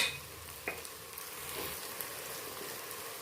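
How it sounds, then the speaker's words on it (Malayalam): Kashmiri chilli powder and coriander powder frying in a pan for beef vindaloo, with a soft, steady sizzle and a few faint clinks of stirring throughout. "നല്ലതുപോലെ ഒന്ന് ആ ഒരു പച്ചച്ചുവ മാറുന്നത് വരെ ഒന്ന് ഇളക്കി കൊടുക്കാം"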